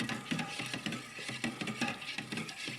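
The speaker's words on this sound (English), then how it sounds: "I'll blend a little bit more, so we have emulsion already" A blender whirs and churns through soap batter, giving a close, continuous grinding, clattering sound with a quick pulsing texture throughout.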